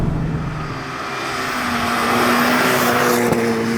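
A Golf R-engined VW Polo GTI drones steadily and climbs in pitch as it revs toward 7,000 rpm, loud and close, with a sharp pop near the end.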